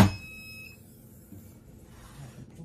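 A heat press used for sublimating a two-sided garden flag gives a warning beep as its countdown ends, one clear electronic tone at the start followed by quiet room noise.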